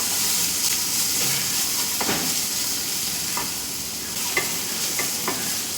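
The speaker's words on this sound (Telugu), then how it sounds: "ఇందులో కొంచెం జీడిపప్పు వేసాను. బాగా మిక్స్ చేస్తున్నానండి." Capsicum paneer curry with cashews being stirred in a pan, a loud steady sizzle and hiss of frying with scraping stir strokes throughout, no voices.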